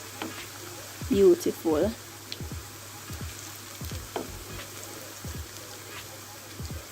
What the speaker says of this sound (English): we're just going to fry these until golden